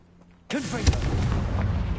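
A sudden loud blast from a Confringo spell in a wizarding video game erupts after brief quiet, then a rumbling, crackling burst continues, with one sharper thump inside the sustained roar.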